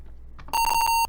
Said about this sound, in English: Stop freaking beeping at me, you stupid computer.